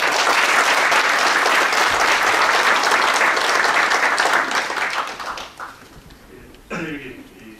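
A banquet audience at a commemorative book publication gathering applauds Japanese professors, with dense sustained clapping that fades out toward the end, leaving sparse claps and a brief murmur.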